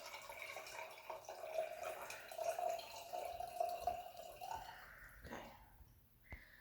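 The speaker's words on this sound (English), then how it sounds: "I'm just going to empty our dirty water into this jar so you can kind of see where it's going to catch the bigger items." Dirty wastewater is emptied from a container into a jar during a treatment demonstration, a faint trickling and dripping pour that thins out near the end, with no talk.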